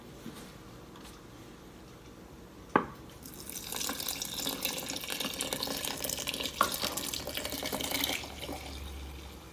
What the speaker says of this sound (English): I'm going to go back to putting more water in here so it can sit a little bit longer.